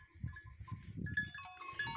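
On a farm, a flock of sheep with lambs bleats in overlapping calls, several high wavering cries rising near the end over low shuffling and trampling close by.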